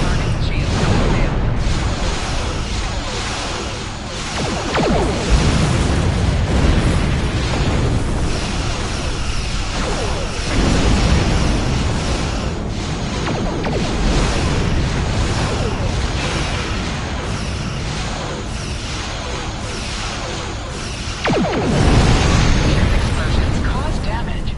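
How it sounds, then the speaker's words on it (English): Ships explode in a space battle against the Borg in the Star Trek Online video game, a dense stream of booming blasts and bursts under continuous game noise, with voices speaking over the action at times. "Explosions cause damage. Put some distance between yourself and exploding ships."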